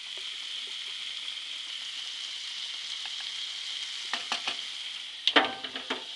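Oil heating in a pan before garlic goes in, a steady faint hiss of sizzling with a few soft clicks and a brief burst of spattering and utensil knocks near the end; no talking.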